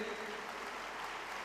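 Brief burst of audience applause welcoming a guest at an Indian event, dense steady clapping from a crowd, short and fairly even in level.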